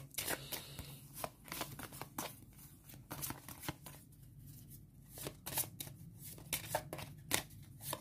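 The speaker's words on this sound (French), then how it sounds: "Et je mélange les cartes du futur." Playing cards are shuffled close up during a solo session of a card-driven board game, a soft papery riffling and flicking that repeats in quick bursts at low level.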